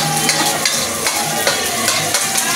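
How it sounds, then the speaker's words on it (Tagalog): Onion and garlic sautéing in a pan, a close, dense sizzle broken by regular scraping stirs, with no talking. "So after the saute with onion and garlic"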